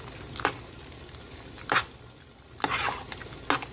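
Macaroni is stirred around in a pot with melted butter, giving a soft bed of sizzle broken by several scraping strokes at irregular intervals, close and fairly quiet, with no talking.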